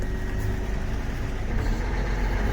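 A truck engine rumbles at a low, steady idle as it is put in gear, running alone with no talk.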